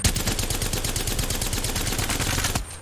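A gun in Apex Legends fires a rapid, evenly spaced burst of loud shots, then stops abruptly near the end.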